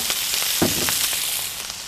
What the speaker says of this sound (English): I've sliced up and I'm going to add to my hot oil. Just get it browning a little bit.